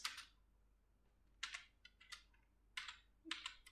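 Fingers type in short clustered bursts of soft clicks on a computer keyboard while entering text in MS Word, close and quiet with pauses between keystrokes.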